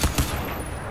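Gunfire in the first-person shooter game Crysis 2: two quick, close shots in rapid succession at the start, followed by a fading tail.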